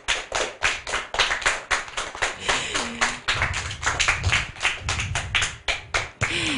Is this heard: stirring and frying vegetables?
no